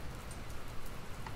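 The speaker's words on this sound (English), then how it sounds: "I don't think it's supposed to still be raining" Rain falls steadily in the video game Dr Langeskov, The Tiger, and the Terribly Cursed Emerald, a soft, even patter with no voices.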